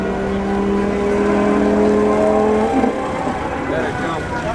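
A modified 500 hp 2020 Toyota Supra with downpipes and a tune lines up against a Tesla Model 3 Performance for a quarter-mile drag race, giving a loud droning engine hum that holds steady and then shifts.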